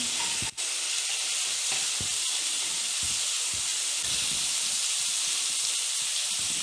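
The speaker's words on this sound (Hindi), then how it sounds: "2 टेबलस्पून हम इसमें ऑयल शामिल कर लेंगे और हाफ टी स्पून में इसमें अदरक लहसुन का पेस्ट डालूंगी" Ginger garlic paste sizzles in hot oil in a pan, a steady loud crackling hiss with brief stirring knocks throughout, no voices.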